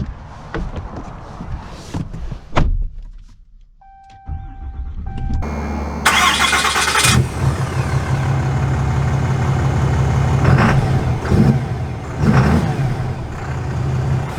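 A 2023 Ram 2500 Laramie Crew Cab diesel pickup cranks and fires up after a quiet pause. It then settles into a loud, steady, close-up diesel rumble that carries through to the end, with no talking.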